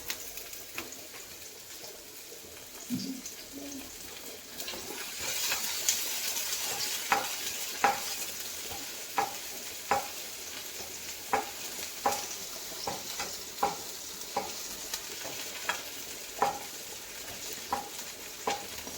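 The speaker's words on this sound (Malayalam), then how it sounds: "കുറച്ച് ഉള്ളി ഇടും ഉള്ളി ഇട്ടിട്ട് ഒന്ന് വാടണം" Sliced onions sizzle softly in a pan while a spatula scrapes and stirs in a regular rhythm of repeated strokes, close by.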